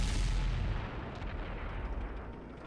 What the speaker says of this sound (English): Our Bat Chat managed to snipe the Chinese heavy tank, which I wore down to quite low hit points.